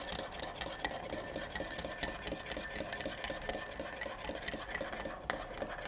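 A spoon stirs ube mixture with sugar by hand in a cup, giving a soft, continuous rhythmic scraping with faint clinks against the sides, quiet and close.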